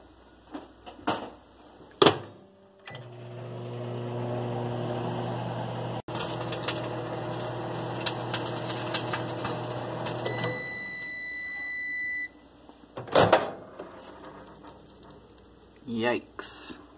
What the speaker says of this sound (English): So yeah, let's make a pizza and put it in the microwave.